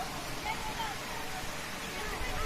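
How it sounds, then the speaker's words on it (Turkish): A waterfall roars inside a hidden cave-like pool near Balkaya village in Kırklareli, Vize, a constant close broadband rush of falling water with faint voices mixed in. "Saklı Şelale'nin içindeyiz şu anda"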